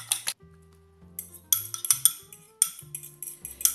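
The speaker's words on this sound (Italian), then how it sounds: "le vado a sbattere direttamente nella ciotolina prima di aggiungerle all'impasto" Fork clinking rapidly against a small bowl while eggs are beaten for a crumbly custard-cream cake batter, coming in quick bursts of close, bright taps over faint steady background tones.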